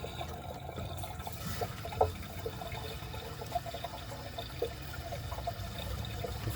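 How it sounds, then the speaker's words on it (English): Water is poured into the bowl of a 2012 Toto Drake toilet, a faint, steady splashing trickle with a few small sharper splashes, and no talking. "let's add some water to the bowl"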